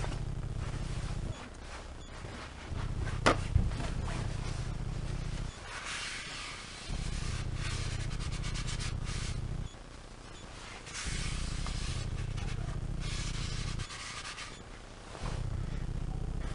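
Repeated hissing bursts of aerosol cleaner sprayed into a brake drum to clear brake dust, each lasting a few seconds with short pauses between, close up and fairly loud.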